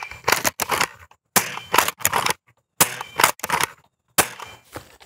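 Nexus Pro foam blaster with an upgraded, heavier spring fires a rapid series of sharp snapping shots in irregular bursts of two or three, close and loud, with short silent gaps between volleys.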